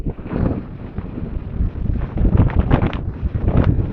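Heavy wind roars and buffets against a motorcycle helmet while riding a scooter, in a steady, loud rush with low rumbling gusts and no voices.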